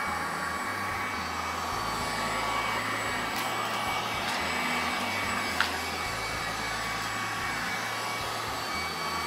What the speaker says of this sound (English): Wow, it's picking up everything. All the little crumbs, all the little morsels.